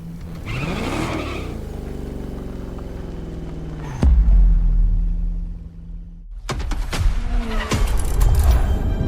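Car engine in The Crew Motorfest, a Ferrari supercar, driving toward a main building at a Ferrari museum, revving and shifting with a rising drone, then a heavy low thump and a quieter idle before revving hard again.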